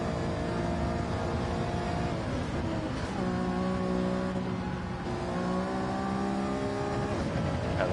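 Onboard race car engine in Gran Turismo 7 at Brands Hatch, a steady loud drone with gear-shift drops and rising revs, running continuously throughout.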